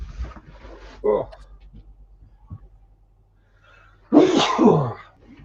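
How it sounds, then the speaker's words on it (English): A single loud, close sneeze bursts out near the end, after quieter muffled speech and a short lull, from someone during a livestream about reselling items. "Gonna sneeze."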